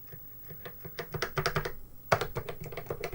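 Quick, fairly quiet keystrokes on a DKTronics keyboard fitted to a modified ZX Spectrum, forming an uneven patter of taps with no talking.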